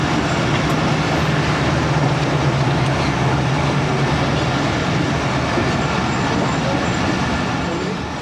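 Tezgam express train arriving at Raiwind Junction, a loud, continuous rumble of rolling carriages and low engine drone that holds steady throughout, close and dominant.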